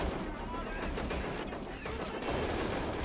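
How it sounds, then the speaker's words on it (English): Anti-tank rifle fire in the Men of War: Assault Squad 2 video game, sounding as a series of sharp, distant-to-mid cracks within a busy battlefield din of other gunfire and rumble. "An AT rifle somewhere."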